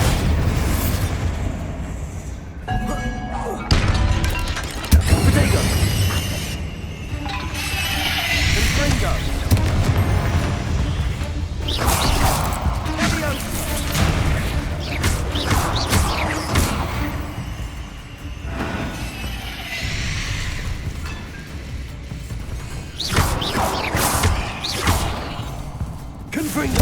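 Explosion spells in the video game Hogwarts Legacy set off a loud run of heavy booms and whooshing blasts, one after another in quick succession, with a voice talking over the din.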